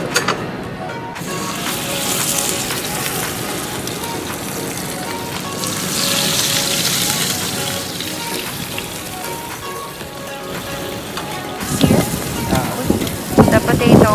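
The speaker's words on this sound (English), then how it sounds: "We pan sear the salmon." Salmon searing in a pan of hot olive oil with lemon, a steady crackling sizzle that runs throughout, with clattering and a voice talking over it toward the end.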